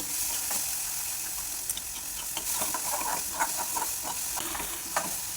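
Ground masala stuffing for stuffed brinjal is sautéed in oil in a pan, giving a continuous close sizzle with light stirring scrapes and small pops throughout.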